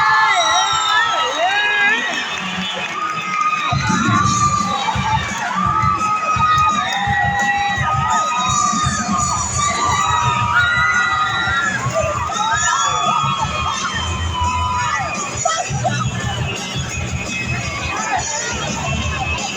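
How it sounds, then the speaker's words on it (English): A crowd at a BMX rally show cheers, whoops and shouts, with children's high voices prominent over continuous clapping and babble for a long sustained stretch. "give yourselves a big round of applause!"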